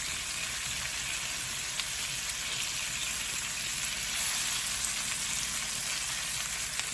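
Chicken drumsticks and smoked beef sausage crisp in a hot pan, a steady, dense sizzle and crackle of frying that holds evenly throughout with no voices.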